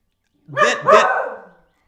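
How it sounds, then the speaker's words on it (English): A Schnauzer gives a single close, loud double bark, two quick overlapping yaps trailing off into silence. "yes, that's my dog"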